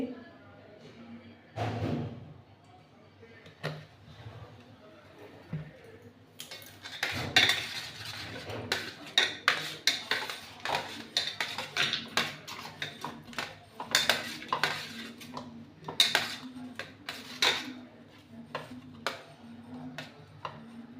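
A metal plate (thala) is handled and greased with oil while cooking dhokar dalna, giving scattered clinks, taps and scrapes of metal that grow busier partway through, with a few thuds and quiet stretches between.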